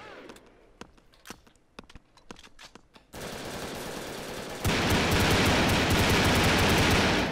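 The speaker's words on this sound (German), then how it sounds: "Ah, da fallen schon die Schüsse." Sparse sharp shots at first, then a sudden switch to loud, continuous rapid gunfire that grows even heavier, synthetic weapons in the video game Brick Force.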